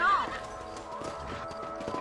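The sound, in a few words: horse hooves in video game Red Dead Redemption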